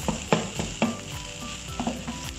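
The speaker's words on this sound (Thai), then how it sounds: "ตอนนี้เราก็อยู่ในขั้นตอนการผัดข้าวนะครับ เราก็ผัดไปจนกว่าข้าวจะแห้งนะครับ" Rice stir-fried with chili paste crackles in a hot pan while a spatula strikes and scrapes in quick repeated knocks over the soft frying sizzle.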